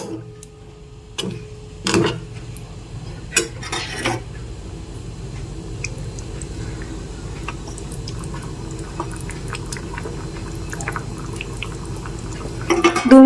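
Eggs going into a pan of egg curry with a gravy made thick and dry, giving a few sharp clinks and clatters of utensil on pan early on against a low, quiet kitchen background, with no talking.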